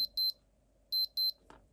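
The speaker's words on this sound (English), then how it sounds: "We have an alarm. Press this button here." A 1990 Casio DB-57 digital watch sounds its alarm in short, thin, high double beeps, three bursts close by, followed by a faint click.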